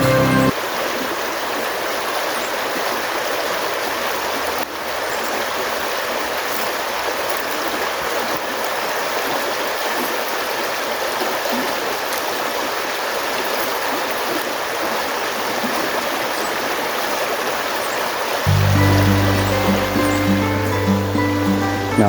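Water flows steadily through a stream in the woods, a constant near rushing wash that continues without a break, joined near the end by a low hum.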